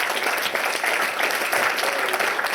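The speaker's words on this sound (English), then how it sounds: "I don't know if they can sort of hear us if we applaud loud enough" Dinner guests at a Burns Supper applaud loudly and continuously, dense clapping from a room full of people that fills the whole moment without talk.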